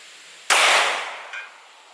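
A single sharp, loud 9mm +P 124-grain Hornady Critical Duty pistol shot fired through a piece of sheet steel, a crack with a bright ringing tail and a faint metallic clink a moment later.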